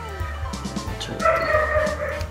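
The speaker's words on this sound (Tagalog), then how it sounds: "O, diba ang ingay ng aso?" Dogs yip and bark in short bursts amid a busy, noisy background, with a few sharper higher-pitched barks near the middle.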